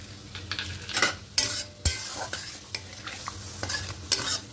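Okra curry with water and sugar is stirred in a pot, a series of wet scraping strokes and clinks over a soft bubbling simmer, no voices.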